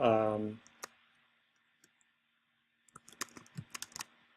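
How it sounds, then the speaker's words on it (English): A computer keyboard is typed on in a quick, close burst of clicking keystrokes. It comes after a short voice at the start and a near-silent pause. "let's type"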